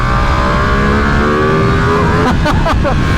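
A Ducati Panigale V2 sport motorcycle engine drones loudly and steadily in second gear with rising pitch near the top of the revs, then a few sharp gear-change blips near the end.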